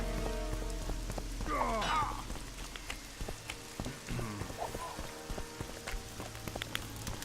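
Steady rain with fog in the video game The Witcher 2, a continuous wash of falling drops alongside intermittent game sound effects, with no talking.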